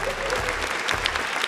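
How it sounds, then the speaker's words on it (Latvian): An audience at a FuckUp Nights event in Riga breaks into steady, dense applause, a brief burst of many hands clapping at once with no voices over it. "Marta Rībele ar aplausiem!"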